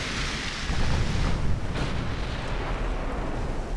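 Two torpedoes strike a warship in the naval video game UA: Dreadnoughts, setting off a heavy, rumbling blast that swells and then rolls on as a dense roar.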